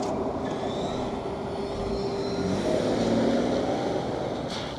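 A 2025 Lexus LX700h Overtrail hybrid full-size SUV starts and rolls off, giving a steady low engine hum with road and wind noise that swells slightly as it moves, heard from outside without talking.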